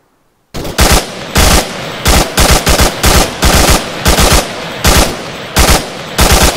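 Rapid automatic gunfire in the military shooter ARMA III, loud, close bursts of repeated shots fired in quick rhythm for several seconds after a brief silence, with no talking.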